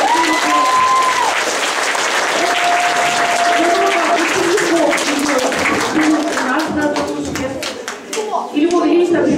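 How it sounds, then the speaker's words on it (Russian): Loud, sustained applause fills a school hall at a Victory Day celebration, a dense crowd clapping steadily throughout, with voices faintly mixed in. "Аплодисменты!"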